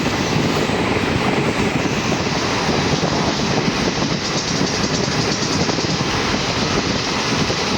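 The Trichy to Tambaram special express train in motion, heard from on board as a loud, continuous rumbling roar of wheels and carriage noise, steady and unbroken throughout.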